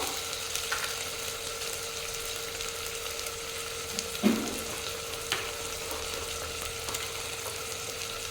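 Mutton pieces are stirred in hot oil, giving a low, steady sizzle with a couple of faint clinks of the spoon against the pan.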